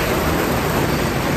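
Steady rain of the year's first shower pours down as a dense, even hiss, loud and unbroken throughout, with no voices over it.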